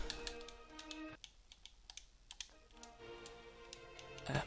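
Steady, rapid clicking of keys on a computer keyboard while playing Planet Coaster on console, close and fairly quiet, with background music running underneath and no speech.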